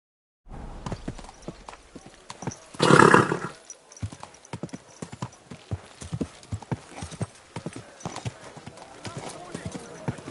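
Horse hooves in the game Kingdom Come: Deliverance II clip-clop at a steady walking rhythm, close and clear, with a brief snorting whinny early on and quiet ambience around it.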